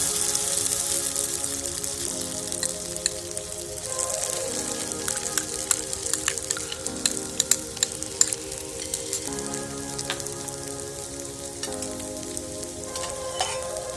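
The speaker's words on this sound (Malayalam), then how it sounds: "ഇനി നമുക്ക് ചവ്വരി വേവിക്കാനിടാം." Sago pearls cook in a pan for cherupayar payasam with a steady, close bubbling sizzle, broken by occasional light clicks and scrapes from stirring.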